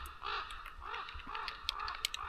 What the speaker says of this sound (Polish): Jakieś gawrony mnie zauważyły.